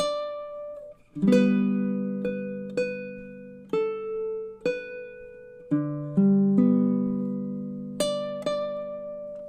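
A baritone ukulele plays a pair of measures of a song with a pickup bar, a steady run of plucked chords and single notes with a slide, ringing close and clear with no voices.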